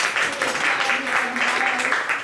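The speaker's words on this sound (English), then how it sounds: "Big round of applause for Anup Jain." Applause for a speaker at a mutual aid talk, steady, fairly loud clapping with voices heard under it.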